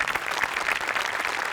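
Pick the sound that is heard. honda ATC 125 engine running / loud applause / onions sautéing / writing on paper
loud applause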